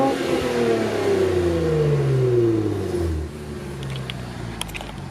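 Modded Infiniti Q50 engine revving up and falling back, a rising then descending whine with a few faint pops near the end, heard at moderate distance.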